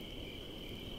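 Crickets chirping at night, a steady high-pitched continuous trill, faint and even, with no voices.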